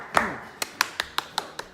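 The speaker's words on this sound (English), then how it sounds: "let me see your hand clap" Single hand claps, about seven sharp, crisp hits spaced roughly every fifth of a second, close and clear with no talking over them.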